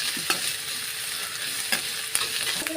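Onion, ginger, garlic and green chili sautéing in a pan give a steady close sizzle, broken by a few sharp scrapes and clinks of a spoon stirring against the metal.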